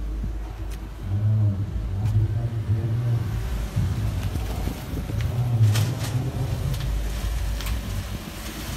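Mitsubishi Xpander engine revving as the car climbs a steep incline, a low droning rumble under load that rises and falls in steady surges at close range, with no talking.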